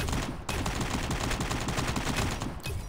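Rapid automatic AK rifle fire in Call of Duty Mobile, a dense continuous burst of shots with a brief break near the start and another near the end, loud and close.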